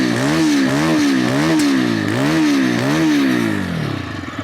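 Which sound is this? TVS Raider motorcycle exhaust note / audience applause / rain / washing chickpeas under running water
TVS Raider motorcycle exhaust note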